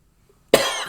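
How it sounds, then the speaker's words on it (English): A single harsh cough from a person, close and loud, sharp onset then a rough breathy tail lasting about half a second after near silence. "I'm sorry for all these coughs."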